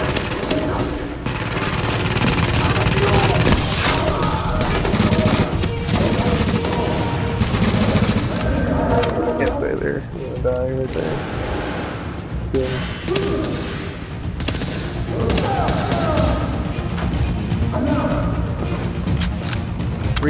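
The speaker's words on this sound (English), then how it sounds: "Oh, there's a sniper. Watch out." Gunfire from a firefight in The Division video game at Hudson Refugee Camp, with sniper shots, keeps going for twenty seconds: dense bursts and single cracks, loud and close, under a constant noisy battle backdrop.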